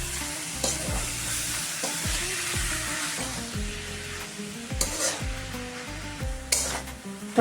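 Radish pieces sizzle as they are stir-fried in a pan for a mooli sabzi, with a steady frying hiss broken by repeated scraping stirs and occasional clinks of the utensil against the pan, close up.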